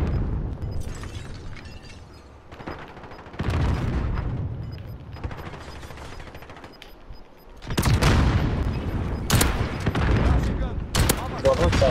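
Gunfire and explosions in a first-person shooter video game: dense bursts of shots and booming blasts, loud and close, which grow heavier toward the end, with players talking over the action.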